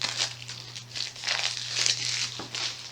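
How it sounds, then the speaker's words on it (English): A sealed Shadows of Brimstone card brick from City of the Ancients being opened, with close crinkling and tearing of plastic wrap in quick, uneven bursts over a low steady hum. "I'm also now going to open up the same brick from City of the Ancients."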